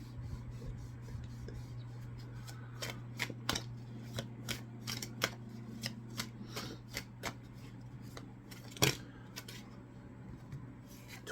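Tarot cards are shuffled by hand, a soft, steady run of riffling flicks and slides over a low constant hum, with one louder slap near the end.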